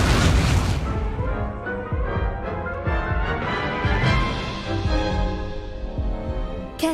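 The Incendio fire spell is cast in the video game Hogwarts Legacy: a loud, booming fiery burst followed by rolling, crackling flame rumbles that fade out, ending with a sharp final pop.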